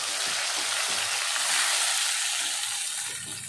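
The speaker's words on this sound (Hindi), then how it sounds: "अब डालेंगे ग्रेटेड टमाटो" Grated tomato hits hot oil in a pan, giving a loud, steady, broadband sizzle that fills the whole stretch, with faint stirring scrapes underneath and no talk.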